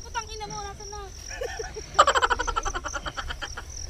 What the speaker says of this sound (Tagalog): Ang palaka ni Ma'am Ana.